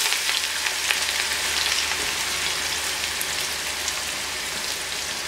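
Finely sliced onions sizzle in about half a cup of hot oil, a steady close hiss with faint crackles running throughout, no voices over it.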